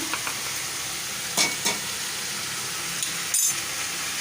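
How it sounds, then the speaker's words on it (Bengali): Ground ginger and fenugreek seeds fry in a pan for a vegetarian young-jackfruit curry: a constant close sizzle with a few short scraping stirs of the spoon, and no voices. "এবার একটু নাড়িয়ে নিই মেথিতে আর আদাতে ভালো একটা"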